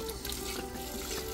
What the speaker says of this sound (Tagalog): Lagyan mo ng tubig.